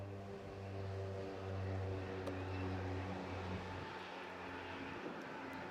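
A twin-boom twin-prop cargo aircraft with high landing gear passes at an air festival in Bournemouth, its steady propeller drone droning loudly and evenly throughout, the engine hum slowly fading toward the end.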